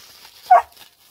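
A small dog lets out a single short, sharp yip indoors, close but brief, against near silence.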